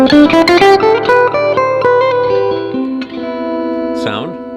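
An electric guitar on a Strat-style single-coil pickup setting plays a quick run of bright, clean notes, then sustained tones with a bend at the end, loud and close.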